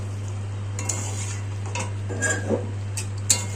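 Spice paste of ginger, garlic, cumin, coriander, tomato, onion and melon-seed is stirred in a pan for a cauliflower-potato curry: sparse metallic scrapes and clinks of a spoon over a faint low sizzle and a steady background hum.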